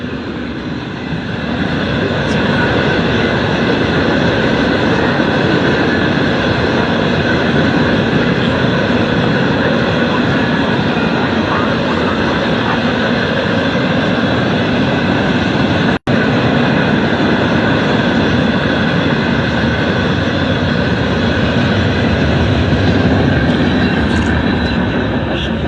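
A Norfolk Southern freight train rolls steadily past close by at Chesterton, Indiana, a loud continuous rumble of wheels and cars that holds constant throughout, with one sharp click partway through.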